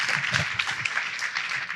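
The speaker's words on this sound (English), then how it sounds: "Let's give him a big round of applause." An audience claps steadily after a conference conversation, a dense continuous applause with a few voices mixed in.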